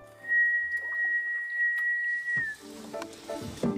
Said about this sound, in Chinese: 树懒在求偶的时候就会发出这样的声音